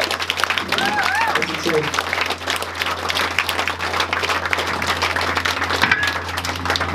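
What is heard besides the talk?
audience applause at end of band's set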